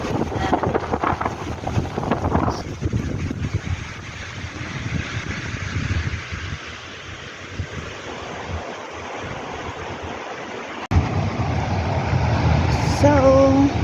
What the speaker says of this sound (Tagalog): mahangin pa rin dito mga kaibigan